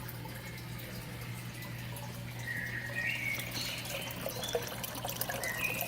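Water from an aquaponics system's return line trickles and splashes steadily, driven by a small circulation pump, with faint gurgles and a low steady hum underneath; no talk.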